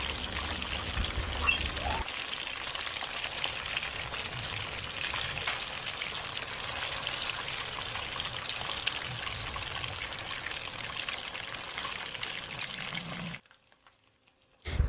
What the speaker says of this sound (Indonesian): selanjutnya kita goreng pakai api yang sedang ya, biar ayamnya itu nggak keras